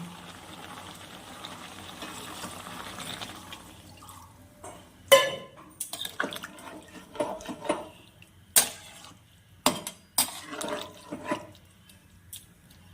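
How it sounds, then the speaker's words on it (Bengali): Water poured into a cooking pot of shrimp with pumpkin and Malabar spinach, beginning as a soft steady flow and then breaking into several sharp splashes and clinks near the end, with no voices. "এবার আমি এখানে জল দিয়ে দিব"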